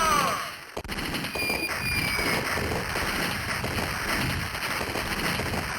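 Cannon fire aimed at a ship in a video game, heard as continuous rapid gunfire-like bursts and crackling blasts running densely throughout, loud and close, with no talking.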